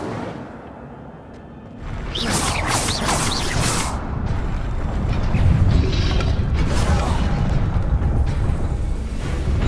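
The Incendio fire spell is cast in a video game: a rushing burst swells into a sustained, loud, roaring rumble with mechanical creaks and crackles, lasting several seconds.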